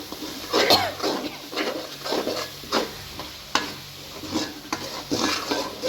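A spoon scrapes and stirs through a ground cinnamon, cardamom and clove spice mix in a hot pan, in repeated rhythmic strokes over a faint sizzle.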